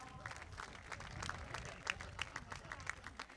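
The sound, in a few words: audience applause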